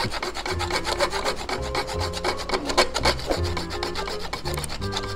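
A hand saw rasps through an MC4 stator connector on a Yamaha Aerox or Nmax scooter, with a steady run of close, rhythmic cutting strokes and no talking.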